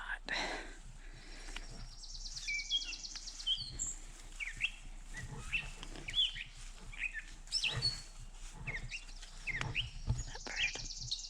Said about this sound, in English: It's probably a vireo or a veery.